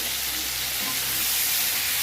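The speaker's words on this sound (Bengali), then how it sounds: "চিংড়ি মাছটা ভাজা হচ্ছে ভালো করে" Medium-sized giant freshwater prawns fry in hot oil, a loud, steady sizzle and hiss lasting the whole short clip with no talk.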